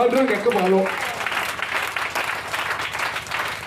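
A church congregation bursts into applause during a French-language service, the broad rustle of many clapping hands running steadily for a few seconds after a voice fades out.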